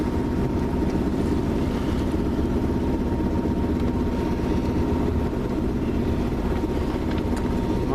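A sailboat motor sailing toward Montrose harbor in Chicago with a following wind from the south, its engine drumming in a steady, loud, continuous low hum over rushing wind and water for the whole stretch, with no talk.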